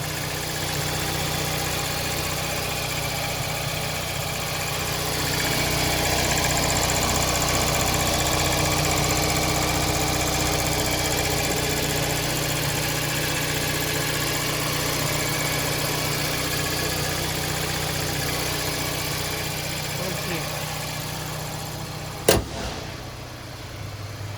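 A 2005 Toyota Voxy eight-seater with a 2.0-litre chain-driven engine idles steadily with the bonnet open, a smooth, even hum that stays constant throughout, broken only by a single sharp click near the end.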